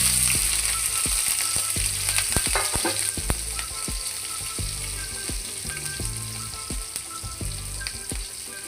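Asafoetida, nigella seeds and green chili fry in hot oil for a spicy bitter gourd and potato dish. The sizzle is steady and crackling, with frequent sharp pops and spatters, close up and uninterrupted.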